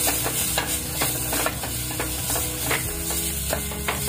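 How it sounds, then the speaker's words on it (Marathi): Malvani masala paste with salt being stir-fried in a hot pan for a drumstick and potato curry: a steady loud sizzle under rhythmic, repeated scraping strokes of a spoon against the pan. "परत हे वाटप चांगलं परतून घ्यायचं।"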